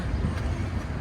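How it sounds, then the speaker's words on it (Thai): A tram in Zurich, Switzerland, rumbles past nearby with a steady, broad low roar and faint rail clatter, continuous throughout with no voices. "นี่ก็รถแทรมนะจ๊ะ"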